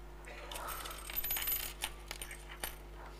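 Coins clink and jingle as they are handled and dropped, with several sharp metallic taps and a scattered run of small rattles, close up over a quiet steady hum.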